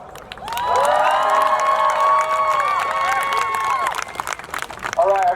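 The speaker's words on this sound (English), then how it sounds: "Everybody give one more round of applause." A crowd at an outdoor climate protest on a university quad cheers and whoops loudly with scattered clapping, sustained for several seconds before fading into voices.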